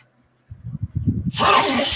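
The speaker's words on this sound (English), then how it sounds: "Why are you sneezing over here" A person sneezing close by, a short building intake breath followed by a sharp, loud, hissing burst.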